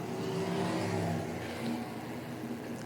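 USAC/CRA sprint cars roar down the back straightaway at Kern Raceway, a continuous loud engine drone at some distance with a slight rise and fall.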